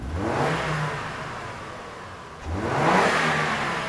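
A car engine revved hard to wide-open throttle during a mass air flow sensor diagnosis for lean and rich fuel trim codes, surging loudly twice with a dip between, close and with no talking.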